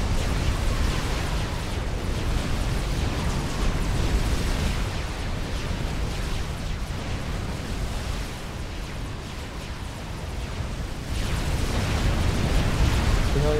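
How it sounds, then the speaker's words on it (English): Rocket explosions in the Supreme Commander real-time strategy game on the LakeSide survival map, a dense continuous rumble of blasts and booms layered into a roaring wash, steady and loud throughout. "Rockets everywhere."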